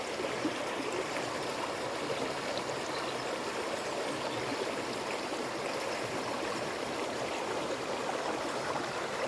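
Spring water flowing in a soft, continuous stream, an even gentle rush at moderate distance with no voices over it.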